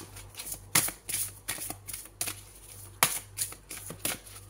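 Tarot cards being shuffled by hand for a reading, sharp close riffling bursts repeating in an uneven rhythm with short pauses between them.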